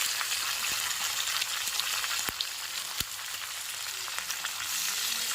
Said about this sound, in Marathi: टोमॅटोही छान परतवून घेऊया